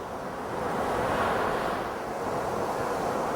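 Waves break at the water's edge on a beach in a steady, rushing surge with gusty wind noise, loud and continuous, no voices.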